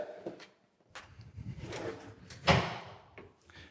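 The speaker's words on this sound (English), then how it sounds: "we've got one more drawer to check" An apartment drawer or cabinet is worked open and shut during a walk-through inspection, giving several soft wooden slides and knocks with one sharper bump near the middle, close by in a quiet room.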